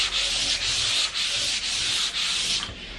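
Hand sanding of a thrifted wooden furniture piece with 240 grit sandpaper to take off roughness before staining, heard as steady close rubbing strokes repeating about every half second.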